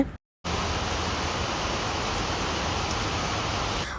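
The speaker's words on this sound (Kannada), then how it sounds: "8:39ಗೆಲ್ಲ ಜೋರಾಗಿ ಮಳೆ ಬರ್ತಾ ಇದೆ." Steady, dense hiss of heavy rain pouring continuously, loud and close, with a brief silent gap at the very start.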